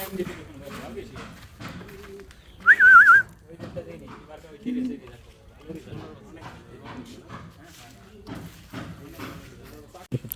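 Racing pigeons at a loft coo intermittently beneath frequent talking, with a short sharp whistle partway through and scattered handling noises nearby.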